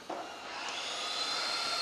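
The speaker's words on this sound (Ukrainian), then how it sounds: "Ось пилосос у нас працює." An FCV 4 upright wet vacuum cleaner switches on and settles into a steady, fairly close whirring hum with a bright airy hiss, running alone without talk.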